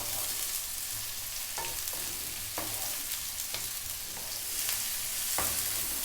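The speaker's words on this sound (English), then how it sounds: "1 cup of onion sliced, and we're going to go just for like 3 minutes on this high heat" Sliced onion stir-fries on high heat with a steady, close sizzle, broken by sharp clicks and scrapes of a utensil tossing it in the pan.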